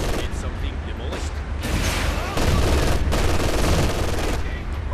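Company of Heroes 2 battle gunfire in a winter Soviet campaign mission: dense bursts of machine-gun and rifle fire crackle in rapid volleys, with heavier booming shots and soldiers' shouting voices mixed into the chaotic, loud combat.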